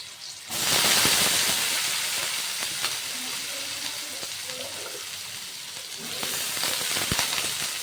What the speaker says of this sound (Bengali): প্রথমে আলুগুলোকে ভেজে নেবো।